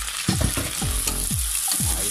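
Chopped tomatoes going into a pan of frying onions for a sea bass ginataan, giving a steady loud sizzle broken by repeated scraping stir strokes with no talking.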